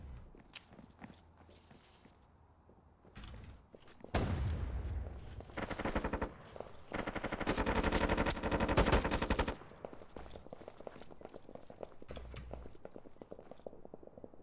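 Gunfire in the tactical shooter Due Process: scattered shots and movement noise, then a long dense burst of rapid automatic fire, followed by quieter scuffling and footsteps, with no one speaking.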